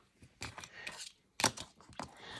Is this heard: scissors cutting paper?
yes